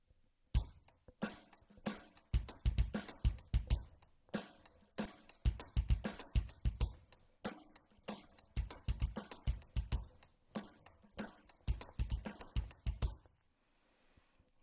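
Close, dry drum kit groove: kick and snare trade beats over even eighth-note cymbal taps, repeating several bars before stopping.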